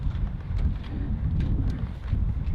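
Strong wind gusting across a microphone on an exposed hilltop overlooking Edinburgh near Arthur's Seat, a heavy low rumbling buffet that rises and falls continuously, with no talking.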